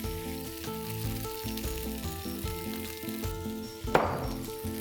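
Grated corn sautéing in a pan over a medium-high flame, a steady sizzle running throughout beneath a musical backing, with one sharper clink or scrape near the end.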